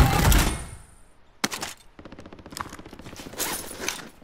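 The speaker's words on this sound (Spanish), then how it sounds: "Como arriba de la loma, se escuchan los disparos" Gunfire in the Warzone video game on the Verdansk map, coming from up on a hill: a sharp opening blast, then rapid bursts of automatic shots rattling on at moderate loudness with no one talking.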